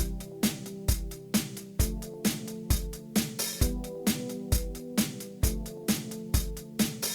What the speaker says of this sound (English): big 80 synth right there.